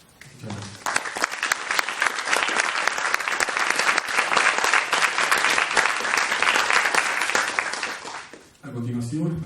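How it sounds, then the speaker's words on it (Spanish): Sustained audience applause at a Lima book presentation for the novel "Los Hijos de Orden" by Luis Urteaga Cabrera, loud and dense for about eight seconds before fading, with a voice starting to speak at the end. "el aplauso es para mí y el aplauso es para Lucho"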